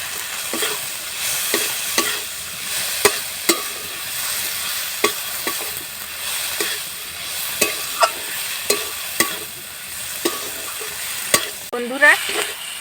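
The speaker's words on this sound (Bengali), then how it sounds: "বন্ধুরা এই দেখো আমার সবজিগুলো সব ভাজা ভাজা হয়ে গেছে।" Vegetables fry in a pan with turmeric and chili powder, giving a steady sizzle broken by sharp, irregular clinks of a spatula stirring against the pan. No one speaks.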